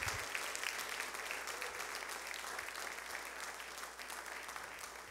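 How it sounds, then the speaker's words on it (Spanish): A church congregation claps for the Lord during a bilingual service; a sustained, faint wash of many hands clapping continues for about five seconds without talk. "Give the Lord a big applause."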